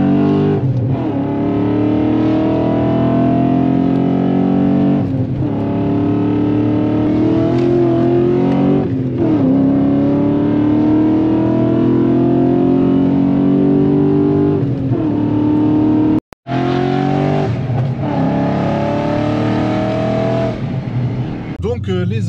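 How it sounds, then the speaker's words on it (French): A manual BMW 540i E39 with a V8 engine accelerates at high speed, its steady, deep engine drone rising slowly in pitch inside the cabin, with a brief cut near the end. "on a un V8 qui nous berce"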